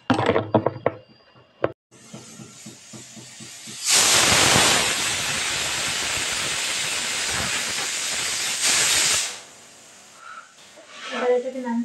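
A pressure cooker holding mutton lets off a loud, sustained hiss of escaping steam for several seconds, preceded by brief kitchen clatter and fading out near the end.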